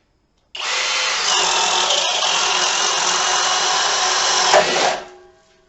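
Cordless power drill boring steadily into wood, one continuous loud whine at constant speed for about four seconds without bogging down, then winding off, nearby and alone without talk.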